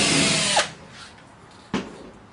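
A power drill bores a hole into the case of a 30-inch Covington saw, with a loud whirring burst that cuts off abruptly, then a second brief spin-up after a quiet gap.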